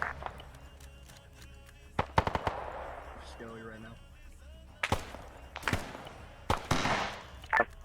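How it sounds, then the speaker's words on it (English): Machine gun fire in Arma 3 comes as sharp bursts of several rapid shots, some near and loud and others more distant, spread across the stretch amid game ambience and voices. "they're getting shot at by that machine gunner up there"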